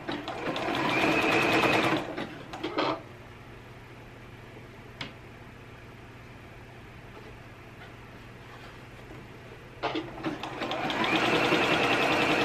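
A sewing machine stitching a bra runs in two short bursts of fast, close clatter at the start and end, with a quiet stretch and a few small clicks in between.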